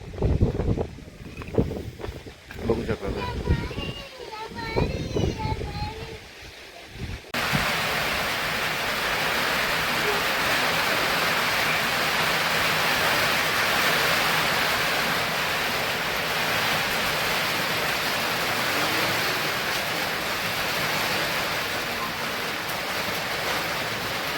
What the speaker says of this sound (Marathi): पाऊस बघू शकता तुम्ही खूप अशी हवा सुटलेली आहे आणि खूप जोरात